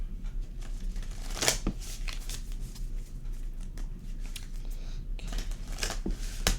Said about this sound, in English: Oracle deck and get a shuffle on them and see